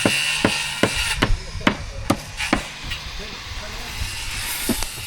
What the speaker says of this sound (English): sorry, air compressor